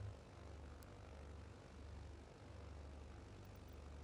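A propeller aircraft's left-hand engine runs in Microsoft Flight Simulator, heard as a faint, steady low droning hum with a slow pulsing throb and no other sounds.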